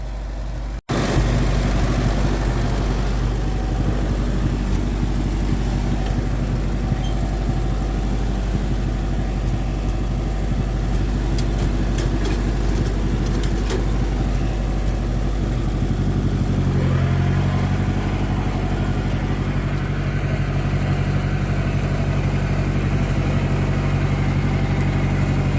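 A tractor engine runs steadily for the whole stretch, a loud, close, continuous low rumble while the machine backs up, with the tone shifting slightly partway through as the load changes.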